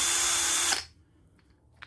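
A Parkside 12V PBSA 12 D4 cordless drill whirs loudly and steadily at close range for under a second, then spins down to near silence, with a faint click at the end.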